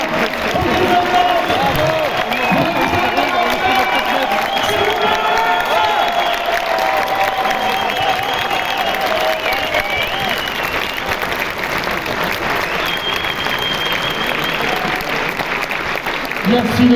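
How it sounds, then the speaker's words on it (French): A large audience in a cinema applauds steadily at a film presentation, dense continuous clapping with a few cheers mixed in, sustained at full strength throughout. "je voudrais un tonnerre d'applaudissements pour Métropolitane, Victor Avila"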